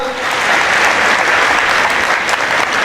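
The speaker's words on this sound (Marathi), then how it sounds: "आमचे मित्र सुमित गोटेसाठी एकदा जोरदार टाळ्या वाजवा" A crowd at a comedy speech gathering bursts into loud, sustained applause for a friend, continuous dense clapping throughout without any talking over it.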